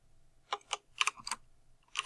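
Several light clicks from a computer keyboard come in small bursts, close and quiet, as someone types a short phrase, with no talking.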